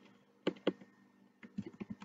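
Faint, sparse clicks of someone typing on a computer keyboard, in two short bursts of a few keystrokes separated by a pause, in a quiet room.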